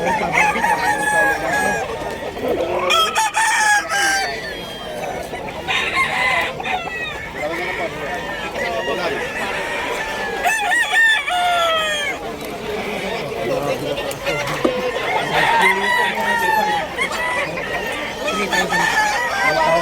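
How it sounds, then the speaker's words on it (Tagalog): Several roosters crow repeatedly over a dense background of clucking chickens at a pet market in Bulacan, Philippines, with people talking throughout. "Napakarami mga manok dito mga boy."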